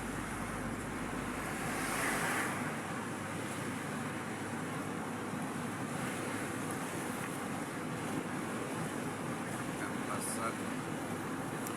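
Strong, cold wind roars steadily across the microphone on the road between Pakse and Pakxong in Champasak province, Laos. It is a continuous loud rush with little change throughout.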